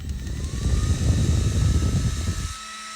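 A small electric fan set to a high speed roars loudly with a dense, steady rush of air for about two and a half seconds, then cuts sharply to a faint hum.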